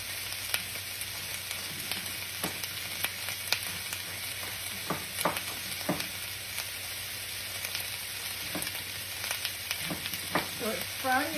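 Cabbage, onion and garlic fry in a skillet of butter and oil, giving a steady broadband sizzle with scattered pops and crackles. Occasional stirring clicks come through, and the sound stays close and even for the whole stretch.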